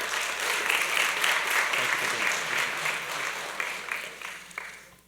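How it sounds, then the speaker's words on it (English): A school board of education meeting audience gives a steady round of applause, dense, even clapping from many hands that holds for several seconds and then thins out toward the end. "So give them all a round of applause."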